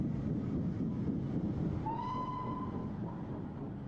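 A steam train rumbles steadily in the distance, and a brief whistle sounds partway through before trailing off under the continuing rolling noise.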